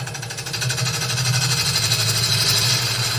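A wood lathe spins a stubborn blank while a gouge cuts into it, giving a loud, continuous rumbling hum with a fast rhythmic chatter throughout.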